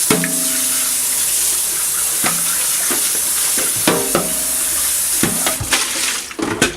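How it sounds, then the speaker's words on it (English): A young coconut is rinsed under running tap water in a kitchen sink, a steady close hiss of flowing water with occasional splashes and knocks as it is turned. "Give this a quick rinse."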